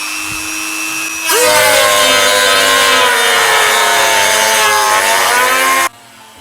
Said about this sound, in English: Just let the Dremel do the cutting.